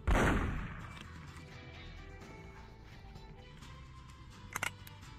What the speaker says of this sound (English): Stop shooting the cannons!